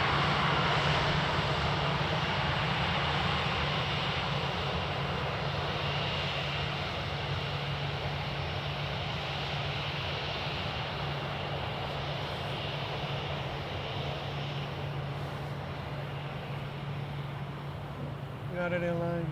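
A United Airlines airliner departing on an early morning, its broad jet roar steady and loud throughout, with a low engine hum beneath and faint radio voices over it.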